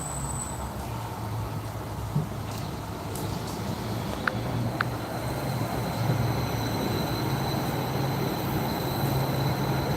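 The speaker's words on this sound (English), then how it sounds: "next train to West Side Avenue is now arriving" HBLR light rail train pulling into a station, a steady close rumble with brief high wheel squeals and a faint tone over it, with no talking heard.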